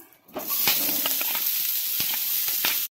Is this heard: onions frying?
yes